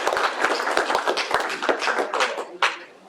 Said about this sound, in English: Can we give a round of applause for